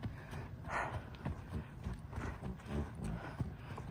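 A horse walks through snow with soft, muffled hoof thuds in an uneven plodding rhythm, close by, over outdoor background noise and a brief snort.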